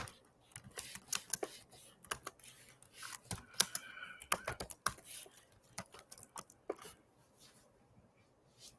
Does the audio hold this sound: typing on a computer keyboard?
yes